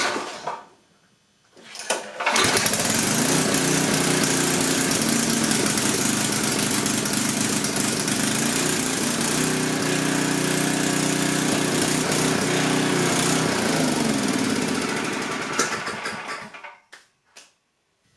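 A Coleman Powermate 6250 generator engine starts after a short quiet moment, then runs loud and steady with a droning hum for about thirteen seconds before winding down and cutting out near the end.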